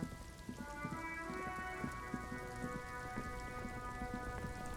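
Steady rain patters in a video game, a dense continuous hiss with scattered drops and a faint musical tone underneath, heard alone.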